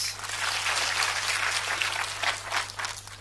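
A church congregation applauds steadily, a dense wash of many hands clapping at moderate volume, sustained without a break.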